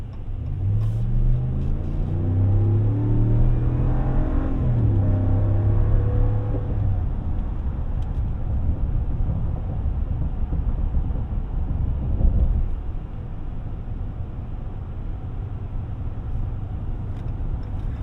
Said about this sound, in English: Let's see how it does while getting up to highway speed.